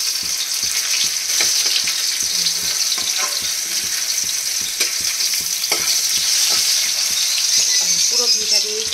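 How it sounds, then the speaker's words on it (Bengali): Potato and onion frying in ghee in a pan for egg pulao, a loud continuous sizzle close by with scraping stirs throughout. "এখানে অল্প আলু দিয়েছি, এখানে পেঁয়াজ দিয়ে আদা রসুন দেবো, দিয়ে এটা করবো।"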